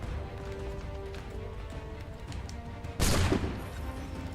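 A single sharp gunshot cracks out about three-quarters of the way through, a loud burst over a busy background of hooves and bustle in Assassin's Creed III Remastered.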